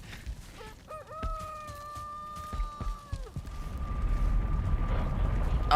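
A chicken in the Viking survival game Valheim lets out loud, close clucks and a drawn-out crowing call, followed by rumbling ambient game noise.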